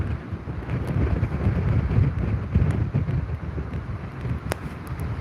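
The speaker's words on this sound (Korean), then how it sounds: "바람 많이 부네요." Strong typhoon wind (Typhoon Bavi) sweeps across a Jeju roadside, a loud, steady roar buffeting the microphone for the whole stretch, with no talking.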